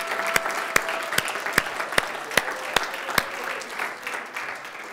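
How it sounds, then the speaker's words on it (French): Congregation applauding together at a Sunday church service on a day of thanksgiving, a dense wash of clapping with a few sharp louder claps standing out at a steady pulse, fading slightly toward the end. "je pense qu'on peut juste les applaudir."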